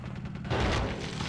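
An explosion in the video game Conker's Bad Fur Day, a short broad burst that rumbles on briefly, loud and close.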